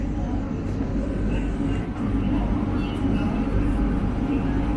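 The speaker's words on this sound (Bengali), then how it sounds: "চারটে কোচের মেট্রো।" Four-coach metro train running, heard from inside as a steady low rumble and continuous hum of motion throughout, with people talking faintly over it.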